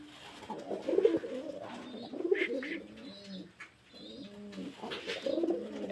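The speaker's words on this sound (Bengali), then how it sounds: "হ্যাঁ, দেখেন কবুতর" Pigeons kept for sale coo in several low, throaty bursts at close range, with soft chirps between them and brief pauses.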